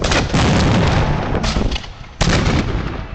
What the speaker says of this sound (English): down comes another grenade